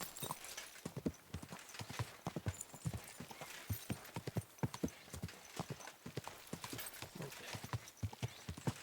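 Steady clip-clop of a horse's hooves in the video game Silksong, a quick, even rhythm of faint, close footfalls without pause and with no talking over it.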